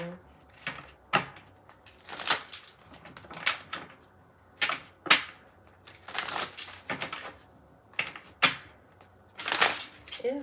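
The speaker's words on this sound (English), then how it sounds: "These cards don't never want to shuffle, y'all." Repeated bursts of cards being riffled and shuffled, uneven and stop-start, with a voice talking in between.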